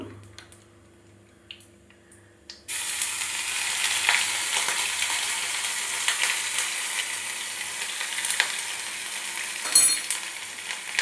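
Ginger paste with nigella seeds and a dried red chili sizzles loudly in a pan after a quiet start, a steady frying hiss with occasional stirring scrapes.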